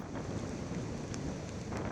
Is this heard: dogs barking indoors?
no